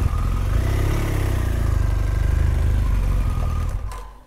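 A BMW 1200 motorcycle idles close by, its steady low engine rumble holding level before fading slightly at the end, with no talk over it.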